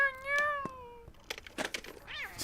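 A cat meows in a clear, drawn-out call, followed by rustling and a few shorter, rougher vocal sounds close to the microphone.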